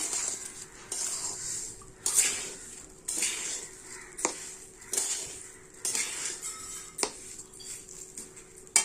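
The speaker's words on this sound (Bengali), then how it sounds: "দেখো চালটা কিন্তু এখনো ভাজা হয়নি, আর একটু ভাজা হবে" Rice dry-frying in a pan for pulao while a spoon stirs it, giving steady rhythmic scraping strokes about once a second over a soft background hiss, with no voices.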